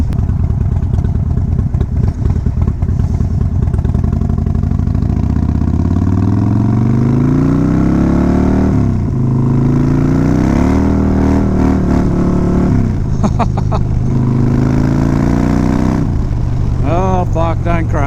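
A Harley-Davidson motorcycle engine drones loudly and steadily throughout a ride on a slippery road in Far North Queensland, Australia, with rising and falling revs and gear changes, and a voice occasionally speaking over the engine and wind.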